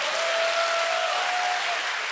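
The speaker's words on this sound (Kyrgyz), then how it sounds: "экинчи сабак үчүн математикачыларга бир кол чабып коюңуздарчы" An audience claps for math teachers during a Kyrgyz stand-up comedy show, a steady wash of applause with a faint tonal hum running beneath it.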